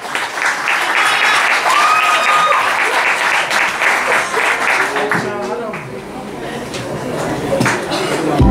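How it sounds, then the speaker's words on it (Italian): Loud audience applause at a singing contest fills the space continuously, dense clapping with a few tonal musical notes and faint voices mixed in as the next performer takes the stage. "Applausi!"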